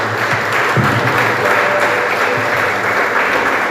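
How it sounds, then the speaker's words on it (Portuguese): A church congregation applauds steadily through a worship service, a dense, loud, continuous wash of clapping with no pauses. "Aplauda, Senhor, em nome de Jesus."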